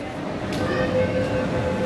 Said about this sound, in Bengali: এই যে ট্রেনটা যেটা দেখছেন এখন যাচ্ছে